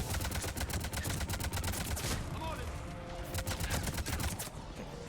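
Very rapid submachine gun fire in the sci-fi shooter Mass Effect 3, set to an extreme fire rate: dense bursts of rattling shots over a constant low rumble, with a short pause mid-way and faint speech underneath.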